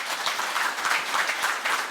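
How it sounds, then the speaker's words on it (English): Warm applause from the audience at a book launch for a history of the Bandon Co-op, a brief, dense patter of clapping heard alone. "Could everybody give John a round of applause?"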